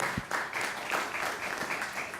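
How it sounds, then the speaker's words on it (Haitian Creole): A short burst of applause, scattered hands clapping steadily at moderate loudness for a couple of seconds. "Sur vos applaudissements, s'il vous plaît."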